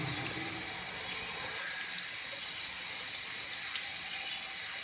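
Warm tap water runs steadily into a sink while a straight razor blade is rinsed before a shave, a continuous close hiss and splash with no talking.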